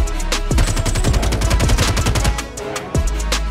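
Rapid gunfire from the video game Hit, dense bursts of automatic shots and repeated single blasts stacked tightly together at a loud, steady level for several seconds.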